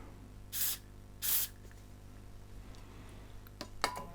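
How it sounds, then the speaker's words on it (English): Two short hissing bursts from an aerosol can of contact cleaner onto a cotton bud, close up, followed by a few light clicks and taps over a steady low hum. "I've just sprayed some onto that cotton bud."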